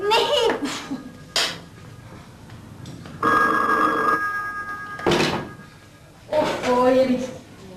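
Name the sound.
telephone ringing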